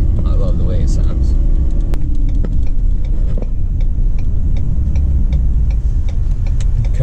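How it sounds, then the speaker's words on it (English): Exhaust brake on a 2017 Ford F-550 with the 6.7 Powerstroke diesel while towing about 30,000 lbs, a steady loud low rumble with faint ticking over constant road noise, and a voice speaks briefly. "the exhaust brake sounds awesome"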